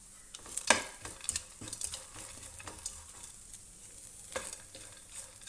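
Masala being stirred and roasted in a pan for a Karnataka-style mixed vegetable curry, with a soft steady sizzle and repeated scraping strokes of the spoon, the louder scrapes coming at irregular intervals, close and fairly quiet.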